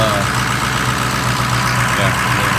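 A car engine idles steadily after a cold start, a loud continuous low rumble heard close up and alone for a few seconds.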